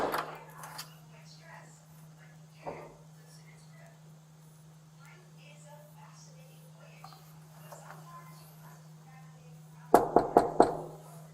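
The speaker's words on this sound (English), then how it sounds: "The officer continued to knock for 2 minutes and 45 seconds" A police officer raps on the door of a house during a welfare check in Fairfax County, Virginia: four sharp, loud knocks in quick succession near the end, after a long quiet stretch of faint low hum and soft background rustles.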